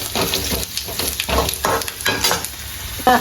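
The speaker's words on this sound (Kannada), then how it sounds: "ಕರಿ ಮೆತ್ತೆ ಜೀರಿಗೆ ಸಾಸಿವೆ ಕರಿಮೆಣಸು ಪಾಡ್ದು ಎಣ್ಣೆಡು ಫ್ರೈ ಮಾಡ್ತದೆ" Whole spices such as curry leaves, cumin, mustard seeds and black pepper fry in hot oil for a Mangalore-style crab sukka, a loud close crackling sizzle with rhythmic stirring strokes every half second or so.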